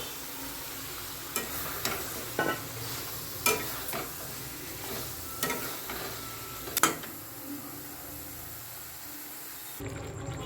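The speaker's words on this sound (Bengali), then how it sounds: "কি সুন্দর তেল ছেড়ে দিয়েছে দেখুন এবার পটলগুলো ছেড়ে দিই" Pointed gourd (potol) pieces frying in hot oil for a potol masala, with a steady sizzle and intermittent scraping clinks of a spoon stirring the pan, close and moderate in level with no voices.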